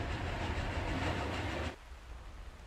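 A moving train in the factory-building game Captain of Industry, a steady rumbling roll with a faint rhythmic clatter that cuts off abruptly, leaving a quieter background hum.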